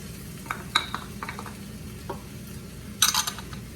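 Chopped sweet potato lands in a sizzling pan for a vegan veggie coconut milk stir-fry. Steady frying hiss runs throughout, with a few clattering scrapes and a burst of stirring noise near the end, close and fairly loud.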